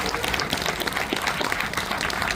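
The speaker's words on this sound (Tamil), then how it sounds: "ஒரு கைத்தட்டு கொடுக்கலாம்" A crowd at a large union members meeting claps steadily throughout, a dense, continuous wash of applause with no break.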